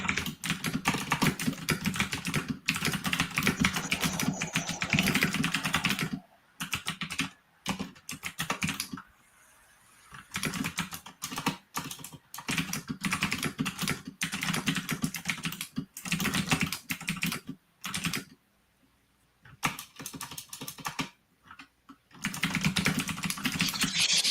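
Close, rapid clatter of a computer keyboard as a message is typed, with continuous keystrokes broken by a few brief pauses and no talk.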